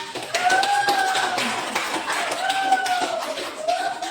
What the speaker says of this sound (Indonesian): Silakan kita beri aplaus kepada